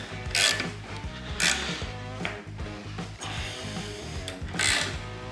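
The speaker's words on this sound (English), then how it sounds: "now what we're doing is threading this end with a 1/2" 13 die" A 1/2-13 die cuts threads onto the end of a metal rod meant for a Craftsman screwdriver handle attachment, giving rhythmic ratcheting and grinding strokes that surge and ease in repeated cycles, close and steady with no talk.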